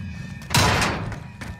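A red door opening in the Call of Duty video game: a single loud thunk with a heavy whoosh that slowly fades, then a lighter knock near the end, over low game ambience.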